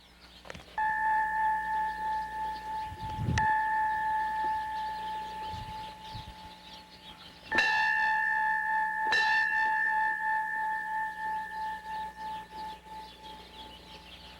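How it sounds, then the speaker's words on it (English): A bell rings and clangs in New Suffolk, sustaining a steady ringing tone through the whole stretch, with sharp clanging strikes and pulsing repeats layered over it, fairly loud and without speech. "Now we're going to hear the bell ring and clang our way out of this film."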